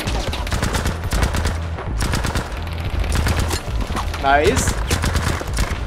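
Heavy automatic gunfire from Battlefield 5, the PC World War II shooter, rattles in dense repeated bursts throughout, loud and close, with a brief voice speaking once near the end.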